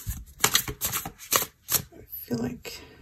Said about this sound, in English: I'll shuffle here again to get another one